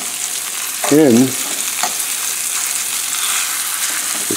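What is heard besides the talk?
pork with garlic and mushrooms frying in a pan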